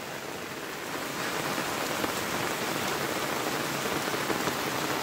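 Heavy monsoon downpour falls on a village in the Konkan region in May, a dense, steady roar of rain drumming on surfaces, loud and continuous with no voices.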